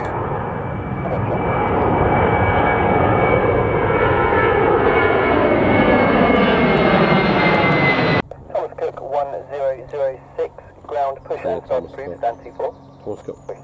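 A Thomas Cook airliner at Manchester Airport roars loudly with a falling whine as it passes, then cuts off abruptly, and someone speaks.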